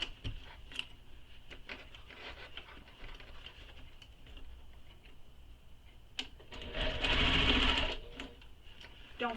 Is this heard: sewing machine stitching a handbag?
yes